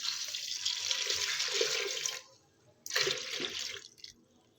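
Water poured into a cooking pot while making a tamarind fish curry, a steady splashing pour for about two seconds, a short pause, then a second pour, fairly close and without talk.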